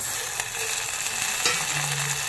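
Sliced onions and green chilies sizzle steadily in hot oil for a simple mutton curry, with a constant close frying hiss and a few faint scrapes, no voices present.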